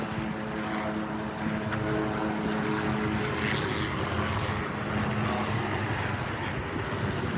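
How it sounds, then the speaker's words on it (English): A helicopter circles over the Capitol building in Columbia, South Carolina during a protest, its steady, distant rotor drone and engine hum filling the air at moderate volume with no voices. "There's that helicopter keeping an eye on the Capitol building here."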